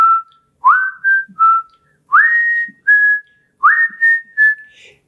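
A whistled tune from a Pulp Fiction film scene: a single clear whistler repeats a short phrase of rising, sliding notes three times with brief pauses, close and loud with no other sound.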